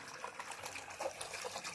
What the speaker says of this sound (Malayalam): ഒരു നല്ല രീതിക്ക് വെള്ളം പോകുന്നുണ്ട്